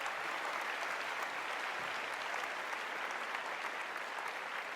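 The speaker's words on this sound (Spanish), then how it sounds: "Denle un aplauso a nuestro Dios." A church congregation claps together in a continuous, even wash of applause, fairly soft and distant, holding steady for several seconds with no voices cutting through.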